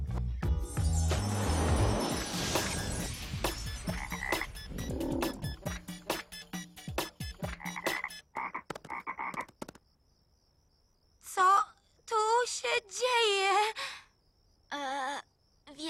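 Cartoon frogs croak in an animated film scene: a burst of layered sound effects and rhythmic croaking pulses gives way to quiet, then a run of loud, warbling croaks and squawks near the end.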